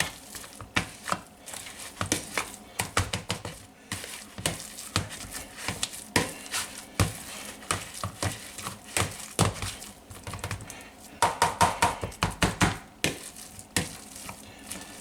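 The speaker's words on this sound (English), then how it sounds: "We're going to take our potato masher. We're going to incorporate all of this stuff." Leftover potatoes are worked with a potato masher, producing repeated irregular squishing thumps and clattering knocks, fairly close and busy, with no voices.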